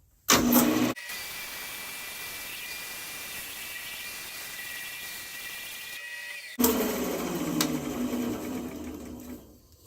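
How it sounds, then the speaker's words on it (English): A maple and purpleheart segmented turning is sanded on the lathe, with a steady motorized whir and faint whine that runs for several seconds between louder bursts of rubbing at the start and end. "let me clean this up and get it sanded"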